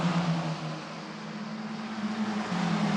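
Italian F4 race cars at Imola circuit, a steady droning engine note held at distance with a slight pitch shift, no voices.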